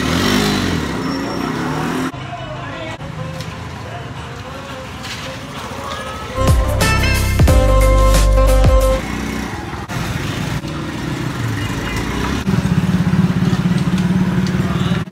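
Several motorcycles ride on a road in northern Pakistan, engines idling and revving nearby, with one loud rumbling pass in the middle while people talk throughout.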